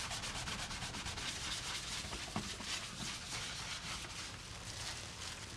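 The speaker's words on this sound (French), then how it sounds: "Je passe un dernier coup de chiffon." Cloth rubbing over a steel-faced copper etching plate, a soft steady scrubbing swish that runs close and fairly quiet, with one small knock partway through.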